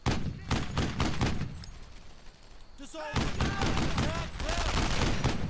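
Gunfire and tank fire in the Brothers in Arms: Earned in Blood video game during a night patrol, with dense loud bursts of rifle and machine-gun shots, a brief lull, then more heavy firing under shouted voices.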